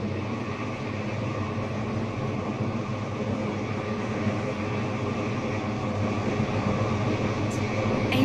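A Stepford County Railway train in Roblox runs steadily along the line, a continuous rumbling drone of wheels and motor at constant loudness with no pauses.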